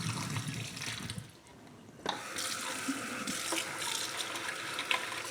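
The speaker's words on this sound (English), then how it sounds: "And then we'll rinse off this top area, and the rest of that we can just dump down the drain." Tap water running over the removable parts of a Roborock F25 Ultra steam cleaner at a sink, a steady splashing stream that pauses briefly and then resumes.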